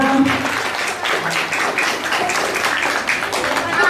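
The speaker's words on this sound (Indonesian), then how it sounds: "minta tepuk tangan dong sekali lagi dong untuk juga cerdas cermat Islam." Audience applause at an Islamic quiz competition (cerdas cermat) held during a Muharram celebration, a steady wash of clapping from a crowd lasting throughout, fairly loud and continuous with some voices mixed in.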